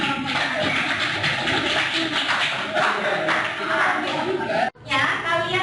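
A classroom audience clapping during an academic coaching session, steady dense applause lasting most of the moment with a brief break near the end, mixed with room chatter.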